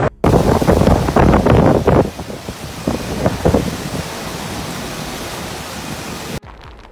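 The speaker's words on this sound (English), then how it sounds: "Tropical Storm Debby in Florida," Tropical Storm Debby batters Florida with roaring wind and driving rain, loud gusts buffeting the microphone early, then easing into a steady rushing wash before cutting off.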